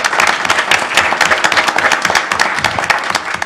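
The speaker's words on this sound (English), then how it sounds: "Let's give her a round of applause." Round of applause for a longtime city employee at a city council meeting; loud, close, continuous clapping from a small room of attendees.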